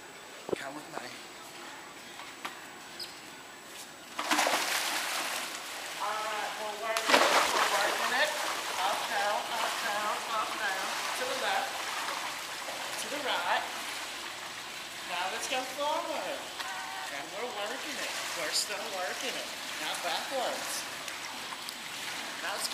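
Pool water sloshing and splashing during a water aerobics workout, continuous churning that grows louder after a few seconds, with a voice calling out over it.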